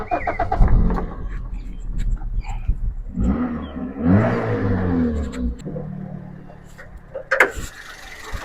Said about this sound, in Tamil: இன்ஜினை ஸ்டார்ட் பண்ணி காமிக்க போகிறேன் பாருங்கள்.